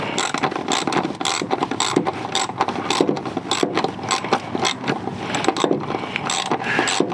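Ratchet wrench tightening bolts on a Jeep Gladiator, a rapid series of close, loud metallic clicking bursts in repeated strokes with brief pauses between them.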